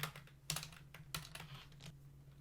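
Typing on a computer keyboard while working on particle effects for a bullet hell game, heard as a quiet, close run of soft key clicks with a few louder strokes over a faint steady hum.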